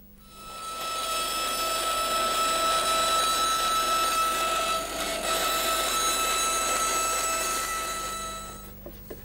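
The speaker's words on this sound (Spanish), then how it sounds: "recortarla en la sierra de cinta" A band saw cuts the wooden back of a chicotén, a stringed psaltery, with a continuous bright whine and rasp for several seconds, close and fairly loud, fading at the end.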